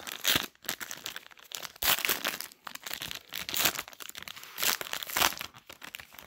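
A 2019 Donruss Optic card pack's foil wrapper is torn open close up, with continuous loud crinkling and crumpling in uneven bursts.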